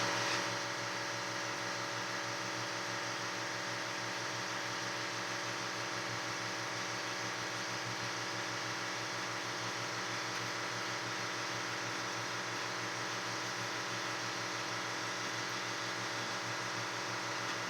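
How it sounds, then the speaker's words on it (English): An air compressor runs in a room during work on clearing a sill, giving a steady, even mechanical hum with a constant hiss that holds unchanged for the whole stretch, with no one speaking. "sorry about the noise from the air compressor"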